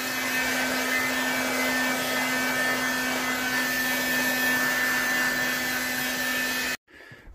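A heat gun blows hot air steadily over freshly painted sneakers to speed drying, a loud, continuous whooshing roar with a fixed motor hum that cuts off abruptly near the end.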